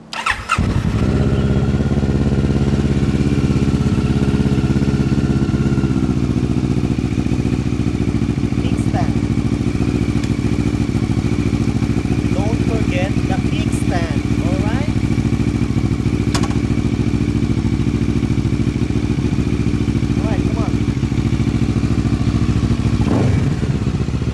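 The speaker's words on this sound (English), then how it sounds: "Keyless switch, now turn to on, and then press the starter button." A keyless-ignition motorcycle in neutral is started with the starter button, then settles into a loud, steady idle running close by throughout, with brief clicks and a voice talking over it.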